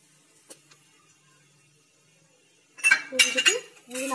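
Potato samosa stuffing with lemon juice is mixed in a pan. After a near-silent stretch, a spoon clinks and scrapes against the metal in quick, close, busy strokes.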